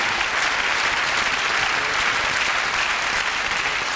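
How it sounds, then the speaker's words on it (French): Loud, continuous applause from a big audience, even and unbroken throughout. "Très applaudi, bien sûr"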